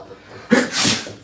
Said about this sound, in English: Yeah, that was a sneeze.